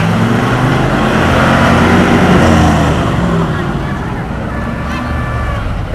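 An old fire engine, once in service with the San Antonio Volunteer Fire Department in Petaluma, California, runs loud and close with a steady heavy engine drone that swells slightly as it revs, with no talk.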